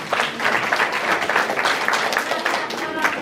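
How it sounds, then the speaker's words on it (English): An audience at a hip hop storytelling event breaks into dense, steady applause, many hands clapping close and loud for the whole stretch with a little crowd noise mixed in. "Give yourselves a round of applause."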